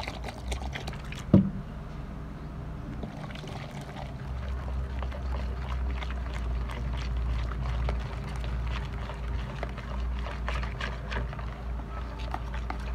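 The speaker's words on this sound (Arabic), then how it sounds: "هنضيف ميه تاني" Water is poured into a Clorox and soap mixture, a low steady gurgling splash after a brief knock, continuing at moderate loudness with no speech.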